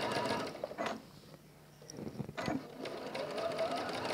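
A sewing machine stitching William Morris tapestry fabric, its motor whirring in uneven bursts that pause briefly and resume, close by, with faint talking mixed in.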